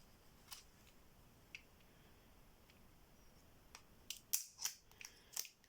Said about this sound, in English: Just these scissors.